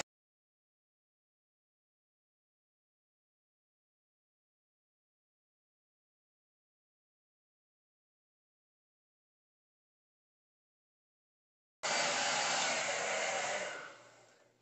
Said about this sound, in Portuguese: Passei o secador 2 ou 3 minutos só, foi pouquinho.